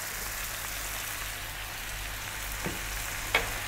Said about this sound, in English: We're now going to drop in that 1 cup of onion.